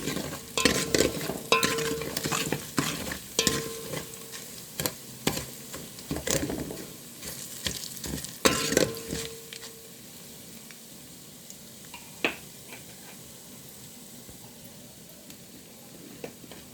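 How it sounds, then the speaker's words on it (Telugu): Spoon stirring dried red chillies, garlic cloves, cumin, turmeric and other tempering spices as they fry in oil in a pan, with repeated scraping strokes and crackling sizzle that fade to a quieter simmer. "ఇవన్నీ కలిసి ఒకసారి కలుపుకున్నాను"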